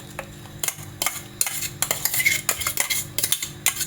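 A spoon scrapes ground ragi and walnut mixture out of a grinder jar into a bowl, giving a quick run of sharp metallic clinks and scrapes in an irregular rhythm, close and clear without speech.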